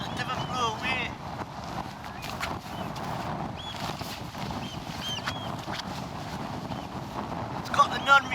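Wind gusts buffet the microphone at a wild camp on the Solway coast, a continuous rough low roar with fluctuating intensity, while a person talks over it.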